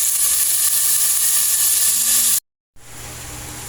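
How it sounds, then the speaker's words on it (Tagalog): Squash sautéing in a hot pan gives off a loud, continuous sizzle that cuts out briefly to silence before resuming. "Yung ating kalabasa, iginigisa ko na"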